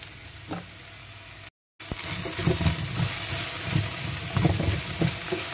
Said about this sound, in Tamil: வெண்டைக்காய் நல்லா வதங்கிடுச்சு